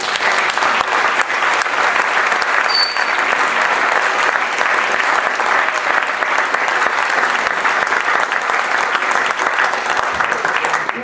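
Steady, dense applause from a youth choir concert audience, loud and sustained throughout with no pause or talk over it.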